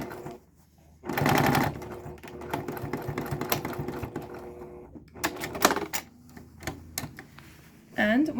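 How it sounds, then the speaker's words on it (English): A sewing machine runs in bursts of rapid mechanical stitching, stopping and starting, close by with some background noise. "you can just stitch along it with your sewing machine"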